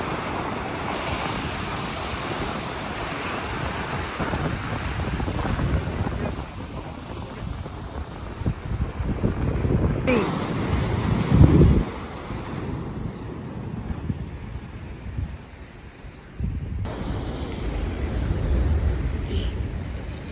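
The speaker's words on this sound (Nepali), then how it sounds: "छालले झन्नै बगायो है, छालले झन्नै बगायो साथीहरू।" Waves roll and crash nearby amid steady wind buffeting the microphone, with a louder surge midway and a brief drop before the surf returns.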